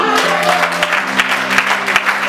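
Worshippers at a Sunday church service clap loudly and steadily together, a thick burst of applause over a faint sustained tone in the background.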